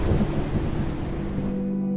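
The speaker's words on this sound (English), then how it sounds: "It can go from a calm, clear day to a wild storm." Wild storm in the Outbreak Island video game, a deep broad thunder rumble with roaring wind and rain noise that swells loud at first and slowly fades, with no voices.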